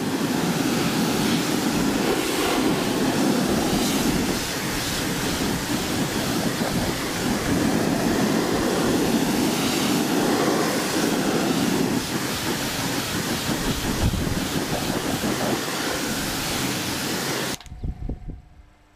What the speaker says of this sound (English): degreaser before being pressure rinsed.